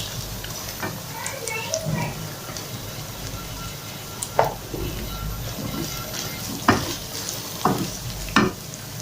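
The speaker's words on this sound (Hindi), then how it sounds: "अब मैं इसमें आलू डाल देती हूँ।" Potatoes fry with onions in a pan for aloo palak, a close, steady sizzle broken by several stirring scrapes and clacks of a spoon against the pan.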